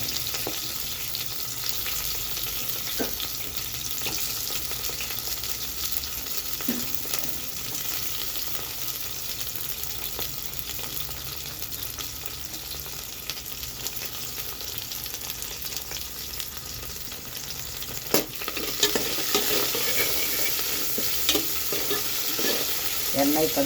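Onion and green chilies fry in hot oil with mustard seeds and curry leaves while being stirred, producing a steady close sizzle with scattered scraping stirs, louder bursts near the end; no talking.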